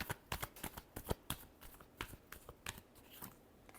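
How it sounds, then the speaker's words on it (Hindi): Tarot cards being shuffled by hand in a quick, rustling flurry of close riffling slaps and flicks, steady throughout with no voices. "last shuffle"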